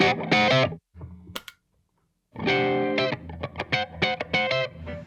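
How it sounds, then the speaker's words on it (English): An electric guitar plays heavily distorted chords and riffs, a loud burst, a short pause, then a longer run of gritty notes. "even if I do change channels, I can get a lot of distortion out of this."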